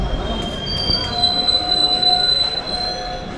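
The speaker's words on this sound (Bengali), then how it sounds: "ট্রেন চলে এলো জঙ্গিপুর, এই জঙ্গিপুর রেলওয়ে স্টেশন দেখতে পাচ্ছ।" A train pulling into Jangipur railway station, its wheels squealing in long, steady high-pitched tones over a continuous low rumble of the moving carriages, close and loud throughout.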